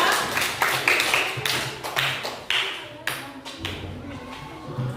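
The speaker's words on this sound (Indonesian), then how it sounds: "Ayo kita berikan aplaus kepada kelompok 3" Students in a classroom clap for the third group, several quick rounds of close, uneven hand claps with a voice speaking briefly between them.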